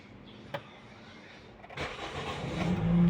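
A Toyota Vios, previously out of action for a year with a camshaft sensor fault, cranks and starts, with a faint click, then the engine catches and swells into a steady idle up close.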